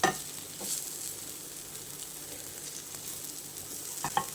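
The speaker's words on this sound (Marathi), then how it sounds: "आता एका साईडने थोडी फ्राय करून घेऊया आणि रेडी होईल" Bombay duck (bombil) tikki fry in a pan with a soft, steady sizzle, broken by a couple of brief crackling pops at the start and near the end; no talking.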